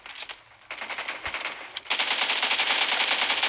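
Rapid automatic gunfire in the mobile shooter BGMI during an 8v8 match sounds as loud, crackling bursts, first in short volleys and then a sustained stream of shots.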